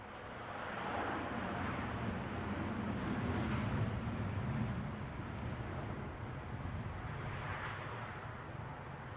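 An airplane coming in to land at London Heathrow gives a steady, broad jet roar from a distance that swells slightly and then eases, with no voices over it.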